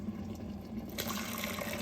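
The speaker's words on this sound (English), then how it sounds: "I'm going to add some water to this" Water is poured into a cooking pot while curried chicken and rice are being prepared; a soft, steady splashing trickle swells suddenly about halfway through and keeps running, close by and with no talk.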